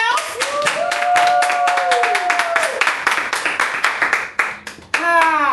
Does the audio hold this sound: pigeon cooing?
no